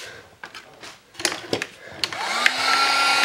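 First a few scattered taps and clicks, then a craft heat tool whirs up into a steady, rising blast of hot air for heat-setting paint splatters and embossing powder on a handmade card.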